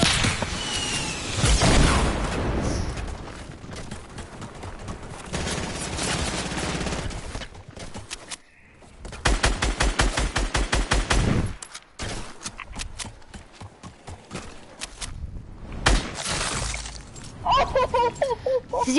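Gunfire from normal weapons in a video game, rapid bursts of automatic fire and sharp single shots in dense volleys with short pauses between, loud and close, with voices talking over parts of it.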